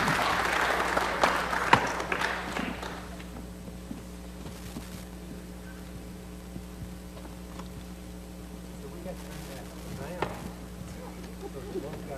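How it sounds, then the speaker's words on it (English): Applause from the audience at a city council meeting, a burst of clapping in the first three seconds that fades to a low room hum with scattered faint sounds. "Let's give them a round of applause."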